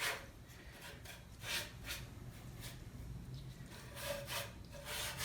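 A paintbrush dry-brushed inside a wooden crate: soft, scratchy bristle strokes rubbing against wood in irregular bursts, fairly close and quiet, with no voices.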